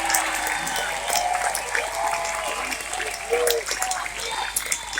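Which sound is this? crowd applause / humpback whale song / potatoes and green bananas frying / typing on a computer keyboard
crowd applause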